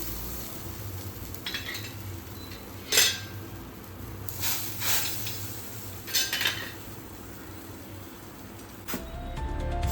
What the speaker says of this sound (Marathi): त्यात आता मी 2 वाटी तांदळाचं पीठ टाकते.